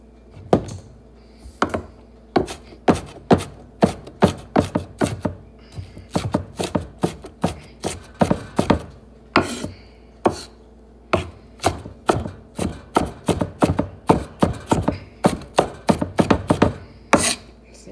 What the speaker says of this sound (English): See, got our onion chopped in there